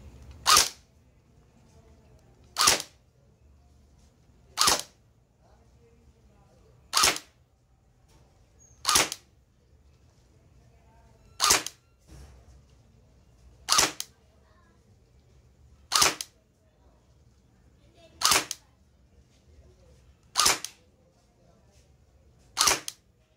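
A Cyma Jund JD100 M4 airsoft gun fires ten single shots at a steady pace roughly two seconds apart, each a sharp, crisp crack over a quiet background.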